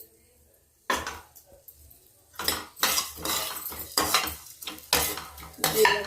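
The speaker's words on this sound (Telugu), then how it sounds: "తర్వాత ధనియాలు వేసుకుంటున్నానండి" Coriander seeds, with a little cumin, go into a pan and get stirred, a dry rattling scrape of a spoon against the metal in repeated bursts. The clatter is close and fairly loud, with a short quiet stretch near the start.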